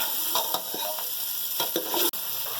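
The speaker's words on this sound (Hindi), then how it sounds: "इसमें भूनेंगे, अच्छी तरह भूनेंगे, ताकि जो फ्लेवर है और इसमें आ जाए" Nihari sautéing in a pan, with a steady close sizzle and hiss broken by scraping spoon strokes as it is stirred.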